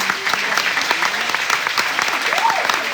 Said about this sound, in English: Could we please give that young lady another round of applause?